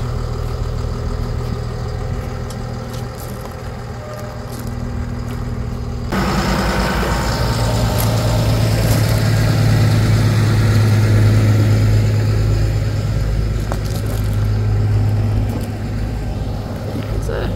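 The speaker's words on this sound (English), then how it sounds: "It's a healthy looking tractor." A tractor's diesel engine runs steadily nearby, its low rumble growing louder and heavier partway through as if revving or moving closer.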